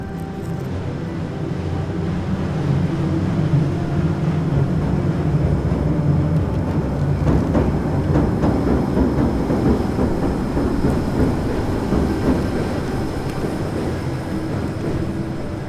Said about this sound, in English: here comes the electric railroad again